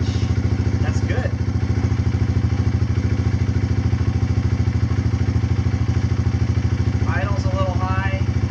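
A Kawasaki KLX140 dirt bike, freshly fitted with a KX65 carburetor, idles slightly high in a steady, close, loud putter with even rapid pulses throughout, while a voice briefly talks over it.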